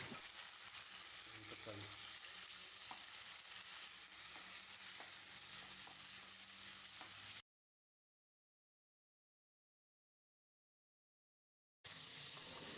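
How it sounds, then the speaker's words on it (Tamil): Onion and tomato sautéing in a pan for a Thalassery-style mutton fry, a soft steady sizzle with occasional stirring scrapes, which drops out to silence midway before returning briefly. "ஒரு பெரிய தக்காளி கட் பண்ணியிருக்கேன் இதை சேர்த்து மையை வதக்கிடலாம்"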